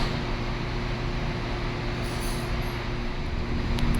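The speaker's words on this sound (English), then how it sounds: "Train departing. Please hold on." A Portland city train pulling away from a stop, heard from inside the car as a steady low rumble and hum with faint high squeals, and no talking.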